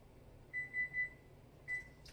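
Oven timer buttons beeping one after another as a timer is set while baking homemade stuffed crust pizza: three short tones in quick succession, a pause, then one more, clear against a quiet kitchen background.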